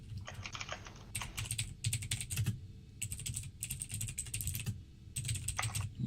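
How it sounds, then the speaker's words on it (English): Rapid clacking keystrokes on a mechanical computer keyboard, typed in several quick bursts with short pauses between them, close and fairly loud over a low background hum. "With my glorious mechanical keyboard."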